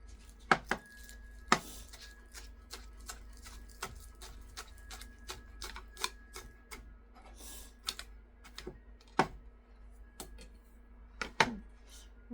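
Knife chopping ingredients for homemade potato soup on a cutting board, irregular sharp taps at close range, quiet overall with a faint background hum.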